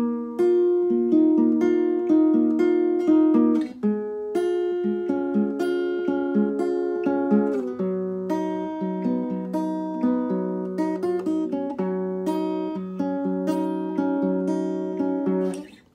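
A steady acoustic guitar riff repeats for the whole stretch, plucked notes and chords ringing continuously with no voices.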